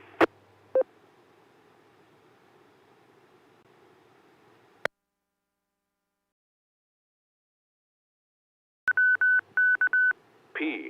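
Short bursts of DTMF touch-tones program a radio repeater over a faint hiss of static. Single beeps come early on, then a quick run of tones follows a silent gap.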